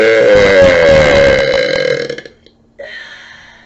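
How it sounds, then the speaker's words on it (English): A woman lets out a long, loud, deep burp close up, trailing off, followed by a shorter second one. "I have all of the confidence in my ability to belch in your face"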